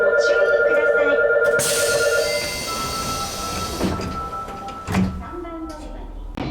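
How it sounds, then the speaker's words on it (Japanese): Train doors slide shut with a brief rumble and thump after a chime, followed by quieter Japanese station platform ambience and a couple of soft knocks. "扉が閉まります。ご注意ください。"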